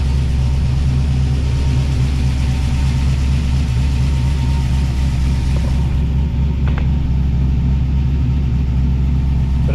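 A 1979 Pontiac Firebird's engine idles steadily up close, a loud continuous low rumble with an even throb and no voices over it.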